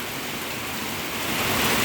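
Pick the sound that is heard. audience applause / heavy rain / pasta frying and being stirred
heavy rain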